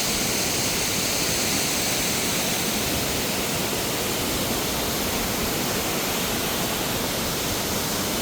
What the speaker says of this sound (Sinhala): ඔන්න අපි ඉතින් නලගන ඇල්ල ළඟටම ආවා.